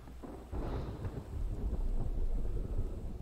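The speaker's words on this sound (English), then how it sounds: "It's raining." Rain and thunder in the survival video game The Infected, a low rumbling roll that swells after a quiet start and holds steady over a rainy wash, with no voices.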